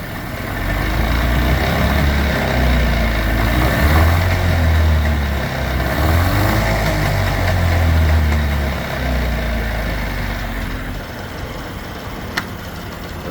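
A 1997/98 Mercury 25hp long-shaft two-stroke outboard motor revs in neutral, a loud close buzzing drone that swells and eases with throttle before settling toward idle, with no talking.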